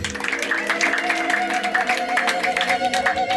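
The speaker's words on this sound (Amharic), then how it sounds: "አጨብጭቡ ለጌታ" A church congregation claps in steady rhythm for the Lord, the claps blending under sustained music and singing in a reverberant hall.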